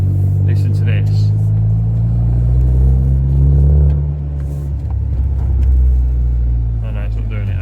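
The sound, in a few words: 2004 Saab 9-3 car engine running loudly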